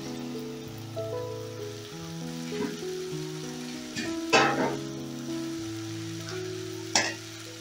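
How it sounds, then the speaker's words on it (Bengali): Soya chunk curry sizzles in a pan as spice-washing water is poured in, a steady crackling fry with a few sharper spitting bursts, close and moderately loud. "সয়াবিনটা মেখেছিলাম সেই মশলা ধোয়া জলটা দিয়ে দিচ্ছি"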